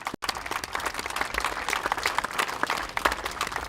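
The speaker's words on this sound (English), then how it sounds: "yes, round of applause for John." Audience applause for John, chair of the Public Art Committee, at a 13th Street community celebration in Marshalltown: a dense, steady crowd clapping after a brief cut near the start, fairly loud and close throughout.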